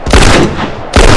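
Loud, dense automatic gunfire in The Last of Us multiplayer Factions mode, with a sustained burst that fades briefly before a second heavy volley erupts.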